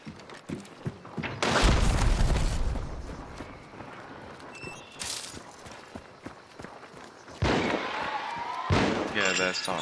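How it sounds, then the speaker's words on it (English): Gunfire in the video game Hunt: Showdown, with loud bursts of shots and booming impacts spread across the clip, separated by quieter stretches of game ambience and movement. "they're starting to shoot as well, aren't they?"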